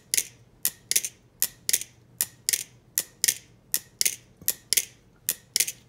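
A ring-silenced BRS Replicant trainer balisong is flipped, giving a string of crisp metallic clicks and light clacks in an uneven rhythm, close up and with no ringing.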